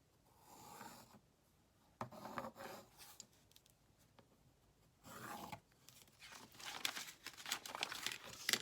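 A pencil traces around a cardboard template laid on paper for a tag journal, giving quiet scratchy strokes in several bursts separated by pauses, the final stretch busier and louder.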